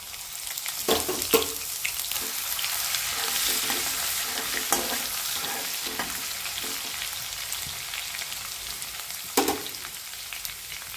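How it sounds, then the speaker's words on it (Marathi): Crushed ginger and garlic hit hot oil with bloomed cumin for paneer bhurji, giving a steady close sizzle with several sharp spatters and stirring scrapes, no talking. "आता आलं लसूण ठेचले ते टाकून घेऊ"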